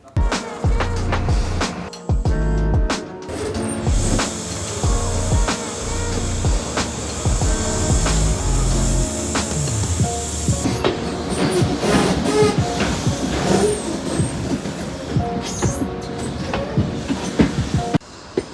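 A preserved 125Group HST diesel InterCity train rolls along, heard from inside a first class carriage: steady rumbling motion with rhythmic wheel clatter and bumps throughout, no talking.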